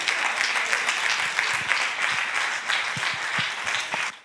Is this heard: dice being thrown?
no